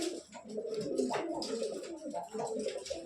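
Pigeons in a loft give soft, repeated throaty coos that rise and fall over about three seconds, close and fairly quiet, with no one speaking.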